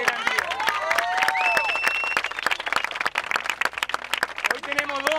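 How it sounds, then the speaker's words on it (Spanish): Audience applause at a community gathering, a loud burst of close individual hand claps mixed with cheering and overlapping voices, thinning into scattered claps. "primero darle un fuerte aplauso a ustedes,"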